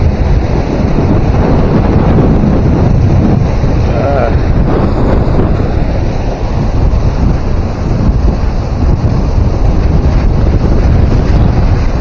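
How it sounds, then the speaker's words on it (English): Strong wind buffets the microphone beside the Fox River dam at South Elgin, a loud, constant roaring rumble that swamps everything for the whole stretch, with faint talk buried underneath. "man, that wind. I can't even get my jig up"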